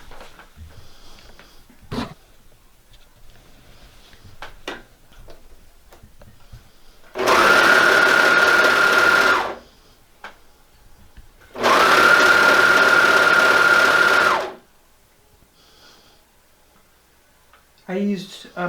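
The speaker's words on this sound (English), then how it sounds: "We're going to serge this seam right here." A serger overlocker stitches a seam on a shirt in two loud, even whirring bursts of a few seconds each. Between the bursts there are quiet handling noises, and faint rustles can be heard before and after.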